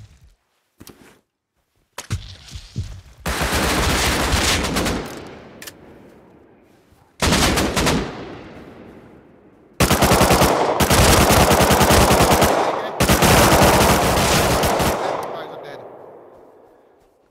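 Bursts of automatic gunfire in the Rust console video game, with long loud volleys separated by short pauses and a few single shots, while a voice talks intermittently.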